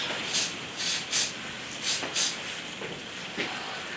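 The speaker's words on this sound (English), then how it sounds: "if I just spray it like that gently, we get some stars" Gentle bursts of spray paint misted onto a painting to make stars, about six short hissing puffs in an uneven rhythm, close and moderately loud, with no voices.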